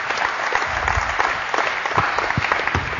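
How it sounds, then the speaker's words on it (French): A group at a basketball shooting drill applauds a player, a burst of close, steady clapping from several people that carries on evenly throughout. "on peut applaudir Franck"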